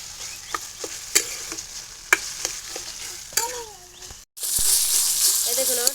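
Boiled green tomatoes sizzle in a pan for a tomato chutney while a spoon knocks and scrapes in uneven strokes. The frying briefly cuts out, then returns louder and hissier.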